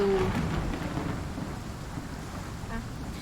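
Heavy rain falls steadily in the video game Sherlock Holmes: The Awakened, with a low rolling rumble of thunder early on that fades beneath a continuous hiss of downpour.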